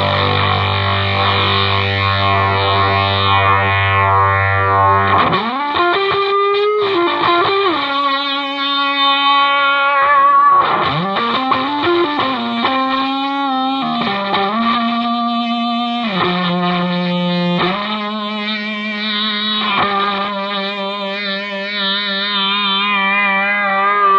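A Soundblox Multiwave guitar distortion pedal in single band octave mode, drive cranked, adds a nasty octave-up fuzz to lead guitar notes. Sustained chords give way to bending, sliding lines played loud and alone.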